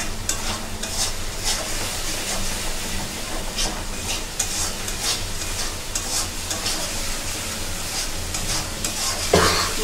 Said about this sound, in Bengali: এখন ভালোভাবে একটু কষিয়ে নিব।